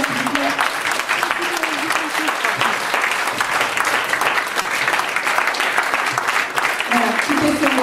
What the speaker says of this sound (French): les applaudissements pour ça encore, s'il vous plaît